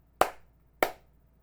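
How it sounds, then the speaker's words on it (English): Two sharp single hand claps about half a second apart, close and dry, each ending in a short room tail, marking the end of an audiobook recording take in an otherwise quiet room. "Or you can just clap."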